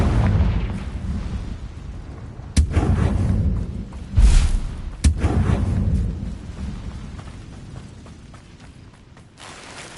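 Confringo blasting spells go off in Hogwarts Legacy: several loud, close, booming bursts with sharp cracks, each trailing off into a rumbling decay.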